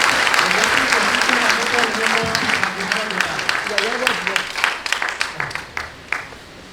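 A church congregation applauding to acclaim the Lord, sustained loud clapping from a crowd that thins and tapers off toward the end, with voices calling out over it.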